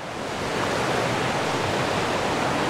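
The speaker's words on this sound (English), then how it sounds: "It's a bit of a stream and river over there." Steady rushing water from a stream and river near the Mae Klang waterfalls in Thailand, a continuous broadband hiss, loud and unbroken for the whole stretch.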